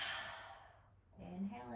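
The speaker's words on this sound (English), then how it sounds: "Exhale out through the mouth." A slow breath pushed out through the mouth during a morning yoga practice, a soft airy exhale near the microphone that fades, followed by a quieter inhale.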